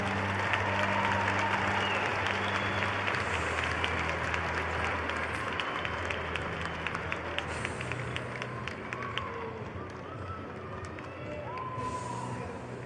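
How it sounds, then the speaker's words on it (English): A crowd at a high school individual wrestling tournament applauds the crowned champions, sustained dense clapping with some cheering in a large hall, tapering slightly toward the end. "wrestling fans, give these guys a great round of applause."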